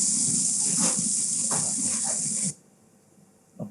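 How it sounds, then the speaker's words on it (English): A bottle of fizzy brown cola is opened with a loud, bright hiss of escaping gas that lasts a couple of seconds and then cuts off to near silence. "the first one is the opening of a bottle of fizzy brown sugar water."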